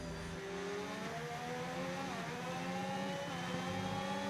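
F1 car engine in the F1 25 racing game, a continuous high whine whose pitch climbs steadily under acceleration, loud and up close, with faint background car noise.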